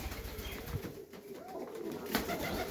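A stray racing pigeon coos softly on a frosty day, its low rolling calls close by over faint outdoor background noise.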